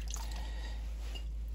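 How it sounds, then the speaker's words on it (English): Pitted cherries and their juices are poured into a medium-sized sauce pot, giving soft wet squishing and dripping sounds over a steady low electrical hum, close and fairly quiet, with no speech. "I'd like to take a medium-sized sauce pot and pour 4 pounds of"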